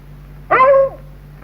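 A single dog gives a short, loud whimpering yelp in a 1953 Bollywood fantasy film, rising and then trailing off over a quiet low hum, with no speech.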